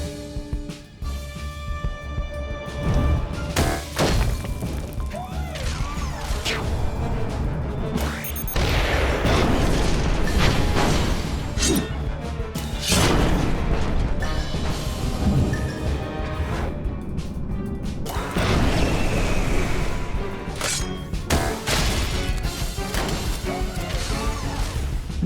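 Repeated loud crashing booms and whooshes of a missile barrage in the video game Costume Quest, dense overlapping impacts over a game music bed with occasional voices.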